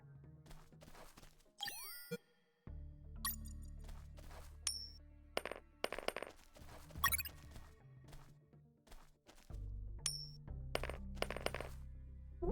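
Coins dropping onto the ground in the UnMetal video game on PC, several bright metallic clinks scattered among bouncy game effects and background music, with no talk.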